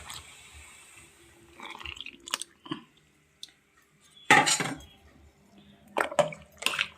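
A spoon scraping and knocking around a metal cooking pot while soaked rice flour batter is stirred for papad, irregular close clinks and scrapes with a wet swishing texture and short pauses between strokes.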